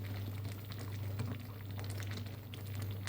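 A pot of jackfruit dish bubbling at a steady simmer on a stove, a continuous low rumble of boiling close by with faint bubbling pops and no talking.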